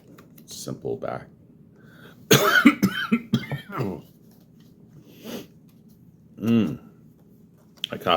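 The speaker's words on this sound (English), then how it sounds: "I coughed so hard I cracked my back into place" Several sharp, harsh coughs in a quiet room, a single one early and then a loud burst of rapid coughing, followed by a few softer throat sounds and another brief cough near the end.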